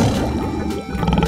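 A short, deep growling lion roar, loud and rumbling, with no voices.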